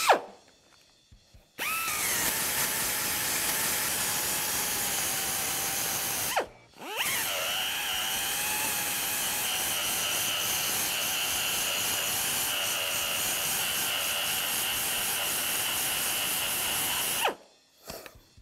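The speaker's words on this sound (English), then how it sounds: "So now I'm going to switch over to the wire brush." A pneumatic rotary tool fitted with a wire brush strips paint and seam sealer, a loud, steady high-pitched whirring grind that runs in two long bursts, briefly cut off and restarted near the middle and stopping near the end.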